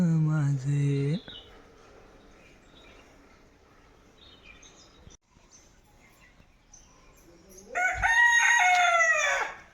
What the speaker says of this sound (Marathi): अरे ह्या तुझ्या कोंबड्यांना गप बसव जरा.